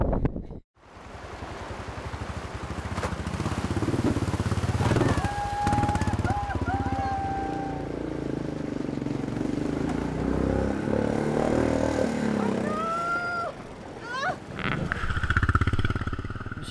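A motorcycle engine drones steadily in the Himalaya under heavy wind buffeting, with a few higher whining tones rising and falling.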